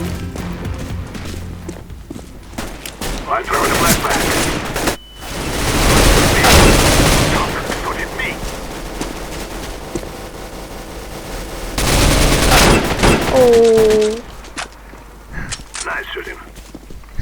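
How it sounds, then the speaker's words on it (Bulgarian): Counter-Strike game gunfire, with bursts of rapid automatic shots and heavy loud volleys alongside footsteps and other game effects, while a player talks throughout. "Стрелям на посоки, избих го."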